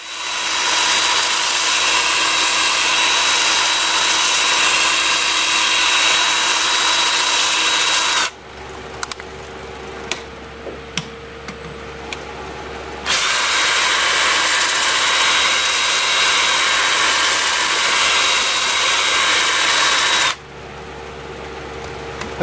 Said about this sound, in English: I've got the lathe spinning forward and reverse at 420 RPM.